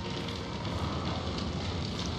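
In the horror video game Outlast, a fire burns with a steady, dense crackle and rush filling the space, continuous and fairly close, with no speech over it.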